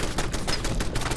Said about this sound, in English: there's actually something else shooting at me right now